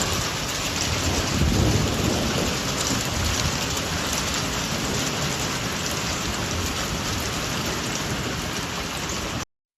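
A hailstorm with heavy rain and thunder in Idaho: a dense, loud, continuous roar of rain and hail pounding surfaces, with a deep rumble of thunder swelling early, no voices.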